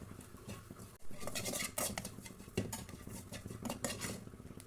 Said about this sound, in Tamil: அதே கடாயில் தேங்காய் துருவலையும் வறுத்துக்கலாம். தேங்காய் துருவல் பொன்னிறமாக வறுத்துக்குங்க.